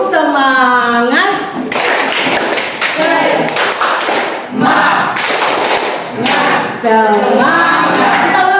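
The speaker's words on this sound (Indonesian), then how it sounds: "Kita semua mulai tepuk semangat." A group at an academic supervision coaching session performs the tepuk semangat clapping chant, with loud, patterned bursts of clapping and taps alternating with voices chanting together.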